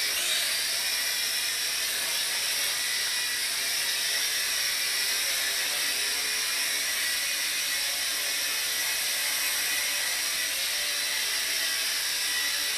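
A Dromida Ominus quadcopter drone flies indoors doing pirouettes, giving a continuous high-pitched propeller whine and buzz that stays steady and close for the whole stretch, with no voices.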